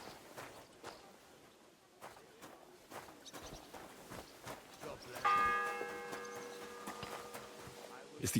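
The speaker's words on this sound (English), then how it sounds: "It's the 8th bell. I need to hurry." A church bell tolls in Kingdom Come Deliverance 2, ringing with a sustained metallic tone after quieter footsteps and ambient game sounds, close and clear.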